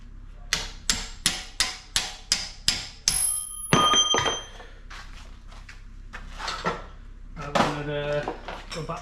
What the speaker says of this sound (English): So a hammer.